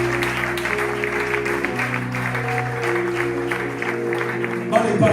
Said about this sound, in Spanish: Yo quiero darle un fuerte aplauso a eso.